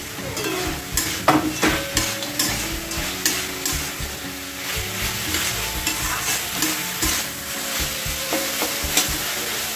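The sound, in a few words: frying spinach curry with fried lentil dumplings (bori), stirring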